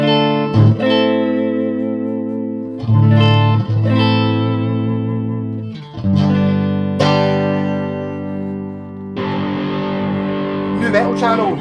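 Sustained electric guitar chords ring out loud through a Carlsboro Nu-Tone 250-watt amp head with reverb at half, a few strums letting notes hang and decay, then quicker picking.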